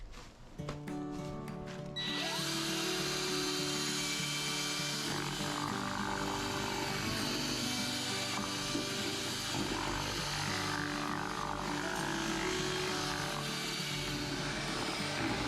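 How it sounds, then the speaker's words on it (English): A power drill whirs steadily and loudly for several seconds while mixing drywall mud, its motor grinding continuously after a short start. "take our drill and do some mixing for a few minutes"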